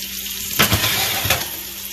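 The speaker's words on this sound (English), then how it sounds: "That steak is cooking on that 500-degree oven." A steak sizzles hard inside a 500-degree oven, a loud continuous frying hiss with two brief bursts of louder crackle, close and with no talk.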